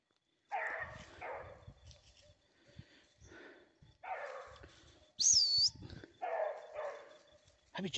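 A hunting dog on a paca hunt barks in short bursts on a trail, several loud yelps spaced apart, with a bird chirping briefly and people talking in between.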